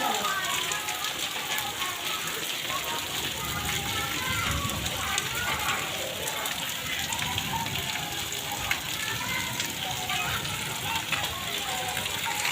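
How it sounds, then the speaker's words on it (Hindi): Heavy rain pours steadily during the rainy season, a dense continuous hiss of drops on surfaces around a house, with water running through a drain, and faint voices and activity in the background. "बारिश हो रही काफ़ी तेज़ बारिश"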